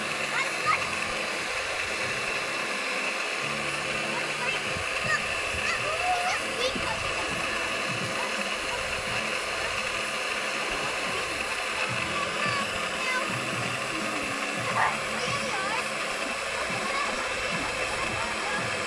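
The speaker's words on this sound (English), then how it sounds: "Splashing." Water splashes continuously during children's swimming play, a dense steady wash of spray and churning water close by with brief voices mixed in.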